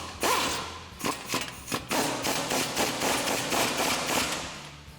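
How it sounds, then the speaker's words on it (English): Impact wrench with a 19mm socket tightening a bolt on a 2007-2021 Toyota Tundra front lower control arm, heard as a rapid series of loud hammering bursts, sharp rattling impacts in quick succession, alone without talk. "we're gonna use a 19mm socket and an impact to tighten this down"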